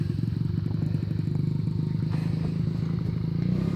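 A small dirt bike, ridden by a heavy adult on the road, drones with a steady, buzzing engine note at a constant throttle, with some light rattling and no speech.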